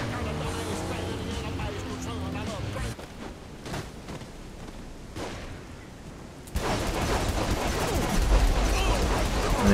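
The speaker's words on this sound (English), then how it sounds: "I'm going to use my pistol because it's just like a pretty devastating weapon" Gunfire from Saints Row: The Third cracks out in bursts of repeated shots, then gives way to louder, denser action noise as the scene intensifies.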